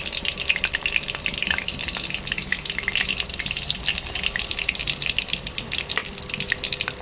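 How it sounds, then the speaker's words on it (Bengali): Bottle gourd leaf pakoras fry in hot oil with a steady, dense crackling sizzle and scattered sharp pops, close and continuous throughout, with no voices. "এবার এই ভাজাগুলো তেলের মধ্যে ফ্রাই হওয়ার জন্য আমি ছেড়ে দিলাম।"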